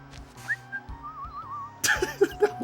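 A warbling whistle in Final Fantasy X wavers melodically over soft background music, followed by a burst of brighter chiming tones.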